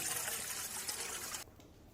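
A cup of water is poured into yogurt-coated chicken in a cooking pot for Mughlai chicken handi, a soft, steady gushing splash that stops abruptly near the end, fairly faint and close.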